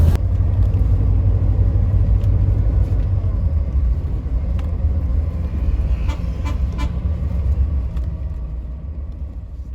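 A bus engine rumbling steadily during an overnight ride in Vietnam, a loud deep drone with rattles and faint clicks inside the cabin.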